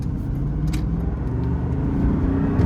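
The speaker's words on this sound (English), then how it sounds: "Here is a second gear rolling start" A 2003 Dinan BMW Z8 accelerating from a second-gear rolling start, a loud, steady engine drone rising slightly in pitch, heard from inside the car.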